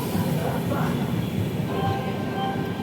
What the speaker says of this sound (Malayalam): അപ്പം കോട്ടയത്ത് നിന്ന് ട്രെയിൻ വിട്ട് കേട്ടോ.